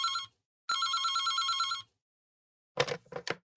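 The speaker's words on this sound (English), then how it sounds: "the phone rang" A telephone in the video game Reverse 1999 gives a short ring, pauses, then rings again for about a second, followed by a few brief clicking tones.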